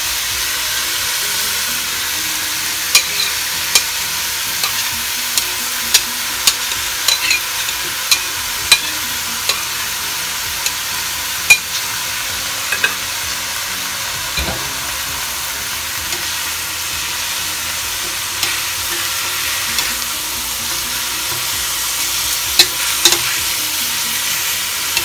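Chopped onion and bell pepper sizzle steadily in a pot for Dominican chicken soup, with a constant bright hiss and scattered soft clicks and taps from stirring, no voices.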